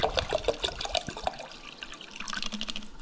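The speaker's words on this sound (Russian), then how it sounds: "Берем пол-литра воды." Half a liter of water poured into a kitchen vessel for frying perch, a soft splashing trickle with a few sharp drips at first, fairly close and quiet, with no voices.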